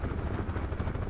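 A UH-1H Huey helicopter in the flight simulator DCS World gives a loud, steady rotor drone and engine rumble with a low throbbing beat.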